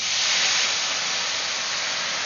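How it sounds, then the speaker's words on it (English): Port wine hisses and steams in a hot pan pulled off the burner, a steady broadband sizzle that stays loud and even throughout with no voices. "Add your port wine."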